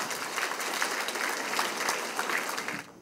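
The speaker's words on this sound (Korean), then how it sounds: "큰 박수 좀 부탁드리겠습니다." Big applause from the audience at a residents' forum on urban regeneration, steady dense clapping that fades out at the end.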